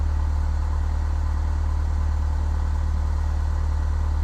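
Small aircraft engine in the Flight Simulator 2004 game, taxiing onto a runway: a steady, loud, low droning hum with an even buzzing texture, unchanging throughout and with no talk.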